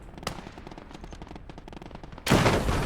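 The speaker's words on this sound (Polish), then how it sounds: "O mój Boże, idzie granat." A grenade explodes in the World War II game Gates of Hell, a sudden loud broadband blast that follows a stretch of rapid, rattling machine-gun fire and then lingers as a dense roar.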